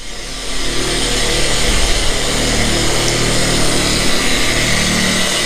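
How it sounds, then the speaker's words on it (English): A Griot's Garage orbital buffer works rubbing compound into truck paint with a white waffle cutting pad, a steady loud motor whine that holds evenly throughout with no talking. "using a Grio's Garage orbital buffer with a mother's rubbing compound"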